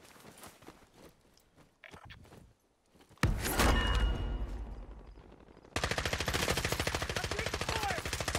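Gunfire in a video game, where quiet movement gives way to a loud volley of shots and then sustained rapid automatic fire that rattles on without pause.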